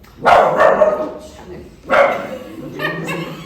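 A dog barks nearby, two loud yelping barks with whiny tails, the second after a short pause, followed by a softer whimper.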